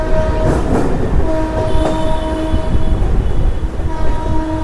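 A train runs through a curve on the Ranaghat to Amghata line, heard loud and close as a continuous rumble with wheel squeal and clattering from the rails, and no voices.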